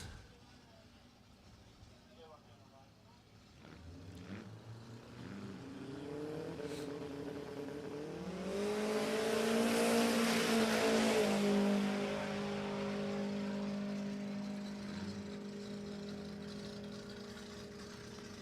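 A Toyota Hilux launches on a drag strip at Warwick Dragway, its engine note climbing into a loud, sustained roar with rising harmonics that holds, then eases, with crowd or track noise underneath.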